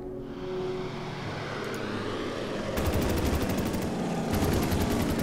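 Units fire in Order of Battle: Morning Sun during the Nanning battle. Bursts of rapid gunfire break out twice over a steady low rumble, and the second volley is louder and closer.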